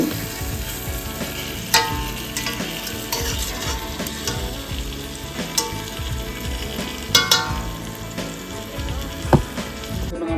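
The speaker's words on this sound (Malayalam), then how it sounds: "അത്യാവശ്യം വെള്ളം കിളക്കുന്നുണ്ട്" Water with masala boils in a pot for kuzhimandi, a steady close bubbling and hiss punctuated by a few sharp clinks of a utensil against the pot.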